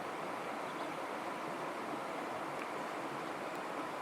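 River rapids in Algonquin Park rush steadily with icy water, a continuous broadband roar that holds at an even level close by, with no voices.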